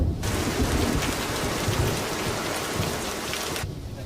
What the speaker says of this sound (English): it's never gonna stop raining